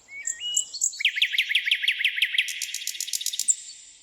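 Nightingale song as a sound effect in a Ukrainian children's audio story: a fast series of about a dozen repeated sweeping chirps with higher whistled notes, clear and close, with no talk over it.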